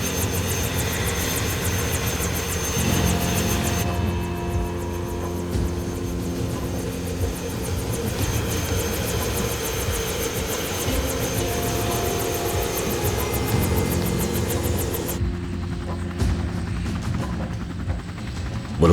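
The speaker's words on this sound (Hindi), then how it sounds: "हेलीकॉप्टर उड़ चुका है" A helicopter takes off and flies, its engine and rotor roar loud and steady throughout, with a high whine that cuts off partway through as the drone continues.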